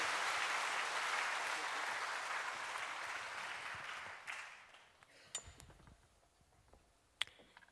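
A church congregation applauding during a Sunday service, a dense, sustained clapping that fades out after several seconds and leaves a quiet room with a few scattered clicks and taps.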